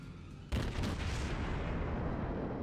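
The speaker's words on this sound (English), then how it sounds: "I can at least get close enough to start firing my guns." A heavy naval gun salvo from the Aoba cruiser in World of Warships booms once, loud and close, then rolls into a long rumbling tail of echoing fire.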